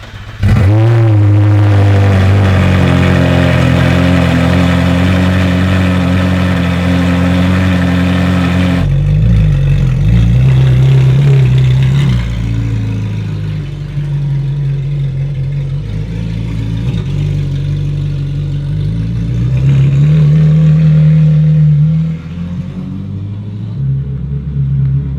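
A Ferrari 458 fitted with a titanium Top Speed exhaust revs hard and then settles into a loud, close, steady drone. The engine note swells and dips again near the end, with no talk over it.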